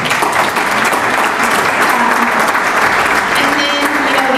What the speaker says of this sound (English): let's give him a quick round of applause